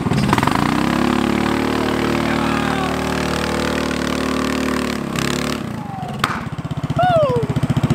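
A 420cc go-kart engine runs rough and loud with the choke on, sputtering steadily, then stutters and drops to uneven chugging with a few high squeaks.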